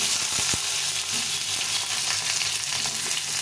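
Potatoes sizzle in hot mustard oil tempered with dried red chilli, radhuni and bay leaf, giving a continuous close crackle and hiss with a few sharper pops. There is no speech.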